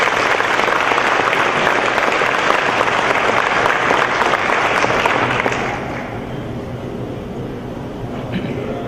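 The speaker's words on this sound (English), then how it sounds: "Would everybody give a round of applause for Jon Wengler, please?" An audience at an awards celebration claps loudly and steadily for several seconds, then the applause drops off to a softer, thinner patter near the end.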